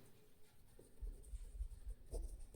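Handwriting during a maths lesson, a faint scratchy pen or chalk stroking in short bursts over a low background rumble, with no speech.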